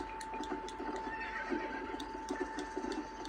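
A horse whinnies in the video game Red Dead Redemption over a steady synthetic backdrop, with faint clip-clop hoofbeats and a constant tone.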